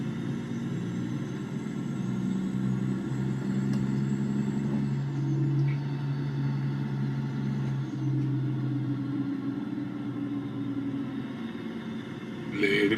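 Steady low engine rumble from a truck called Lady Blue while driving, continuous and fairly close throughout with a faint higher whine above it.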